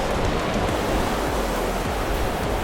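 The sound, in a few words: river flowing at Foncine-le-Haut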